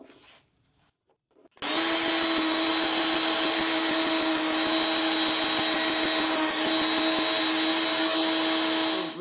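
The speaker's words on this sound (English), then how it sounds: "we'll put a couple finger grooves in with the router" A wood router cuts finger grooves into a wooden sanding block, starting abruptly after a quiet moment and then running as a loud, steady high-pitched whine with a constant tone throughout.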